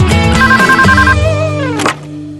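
A mobile phone rings with a bright, melodic electronic ringtone, loud and close, in a short patterned run of tones that breaks off after about two seconds.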